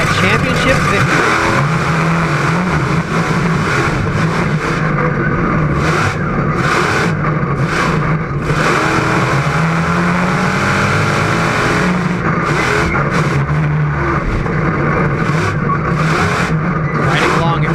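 Onboard ride-along in a monster truck racing around a tricky dirt track at the Indiana State Fair Monster Nationals, the engine roaring loud and continuous with revving surges as it works through turns, a commentator speaking over it.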